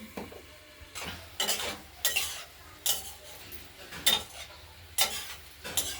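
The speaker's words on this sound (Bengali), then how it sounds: "আরেকবার ঢাকনা খুলে নেড়ে দিলাম" Chopped spring onions frying in mustard oil in a kadai are stirred with a utensil, giving about eight separate scraping, rattling strokes over a low background sizzle, with no talk.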